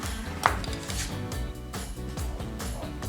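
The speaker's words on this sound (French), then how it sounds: "découper les pommes" A knife chopping apples on a board for an apple tart, a steady series of close, rhythmic cutting taps over faint background music.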